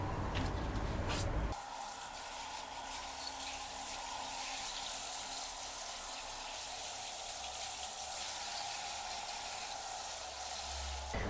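Shower water runs steadily over a Hoya Compacta plant as part of a mealybug treatment, a continuous broadband splashing hiss that stays even and close after a brief handling noise at the start.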